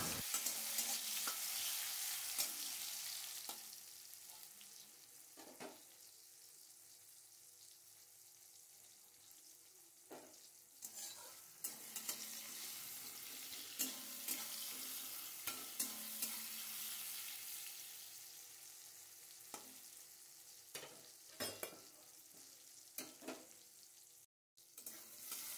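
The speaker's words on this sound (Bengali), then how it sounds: "টমেটো দিয়ে আমি বেশ ভালো করে নাড়াচাড়া করে নেব।" Chopped tomatoes fry in a pan while being stirred, a continuous close sizzle broken by repeated scraping strokes of the spoon against the metal; no talking.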